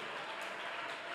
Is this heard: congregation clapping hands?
yes